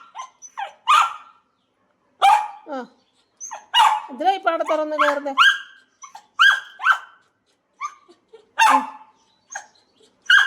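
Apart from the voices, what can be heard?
dog barking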